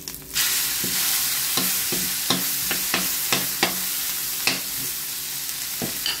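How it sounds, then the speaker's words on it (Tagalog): Garlic sautés in a hot pan with a loud, steady sizzle, and several sharp scrapes of a spatula come at irregular intervals. "magigisa na po tayo ng bawang"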